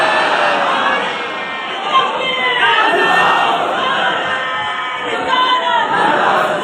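A large crowd at a religious gathering at Nagpur Hajj House shouts the takbeer slogan together, a loud, sustained roar of many voices rising and swelling over several seconds.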